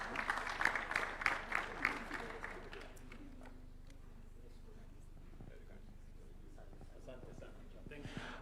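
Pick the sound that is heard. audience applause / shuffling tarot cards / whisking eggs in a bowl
audience applause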